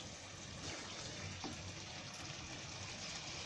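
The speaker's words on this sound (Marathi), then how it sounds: "अजून पाणी ओतते थोडा." Water is poured from a cup into a cooking pan of peas for a mushroom-pea curry, a soft, quiet trickle and splash heard alone at low volume.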